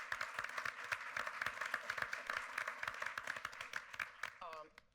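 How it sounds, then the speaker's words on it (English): Scattered clapping from a modest audience at a talk on virtual reality and news, thanking the event staff, individual claps distinct and fairly quiet, fading out as a voice starts at the end. "I want to give them a round of applause"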